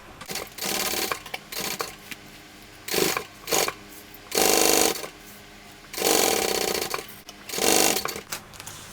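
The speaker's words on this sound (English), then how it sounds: "Let's sew this up." A sewing machine stitching a Verona tote bag from a craft pattern, with several bursts of fast mechanical whirring and needle chatter separated by short pauses, close and steady.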